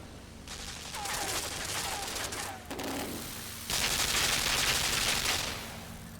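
Machine guns rattle in sustained bursts inside the side-scrolling game Limbo, a dense continuous barrage that briefly drops out before resuming louder and near, with no talk over it.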